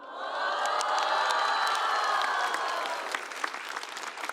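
Enthusiastic audience applause with cheers and whoops at a stand-up comedy show, a thick wall of clapping that swells early and then thins into scattered claps.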